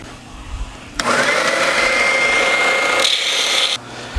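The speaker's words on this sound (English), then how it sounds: "I'm going to use the belt sander to sand it down to that top line" A belt sander grinds a guitar nut for an Elysium Firehawk build, a close, loud abrasive rasp lasting about three seconds, then cutting off back to quiet room tone.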